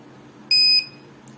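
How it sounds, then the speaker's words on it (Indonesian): A buzzer in a door security system sounds one short, loud electronic warning beep of about a third of a second against a quiet background. "Lalu buzzer akan mengeluarkan suara peringatan."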